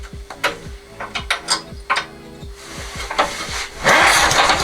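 A worn Gaby small mower engine with its old spark plug is cranked repeatedly in short, rhythmic pulls, each with a sharp mechanical clatter and a brief firing pop, ending in a louder, rougher burst as it catches.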